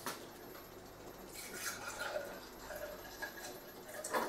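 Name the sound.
water being poured into a container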